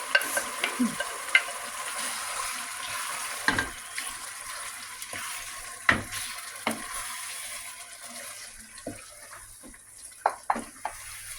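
Chicken and tomato frying in a pan for chicken kabsa, a steady soft sizzle broken by scattered stirring scrapes and clinks, moderately close with no talking.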